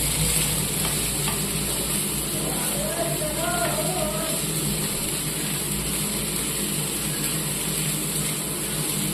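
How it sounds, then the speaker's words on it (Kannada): Broccoli fries and sizzles steadily in hot oil for masala, a continuous bright crackle with occasional stirring and faint background hum. "ಅದು ಚೆನ್ನಾಗಿ ಎಣ್ಣೆನಲ್ಲಿ ಫ್ರೈ ಮಾಡಬೇಕು"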